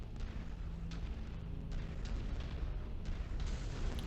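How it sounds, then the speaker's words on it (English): Incoming ballistic weapon fire in the MechWarrior 5 video game lands as a series of dull booms and impacts over a dense, rumbling battle backdrop, fairly loud and continuous. "so that was a ballistic fire coming in."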